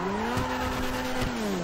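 Tyres skid and squeal on a rain-wet road in a GTA 5 school-bus mod, a sustained loud tonal screech sliding slightly in pitch over steady engine and road rumble.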